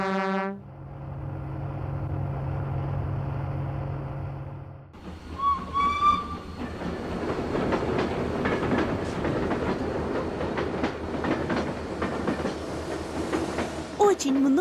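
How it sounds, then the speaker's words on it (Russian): A freight train carrying many kinds of cargo gives a short whistle toot, then its passing cars rumble and clatter loudly with a steady rolling roar and occasional squeals, lasting for most of the stretch. "Очень много разных грузов перевозят по железной дороге грузовыми поездами."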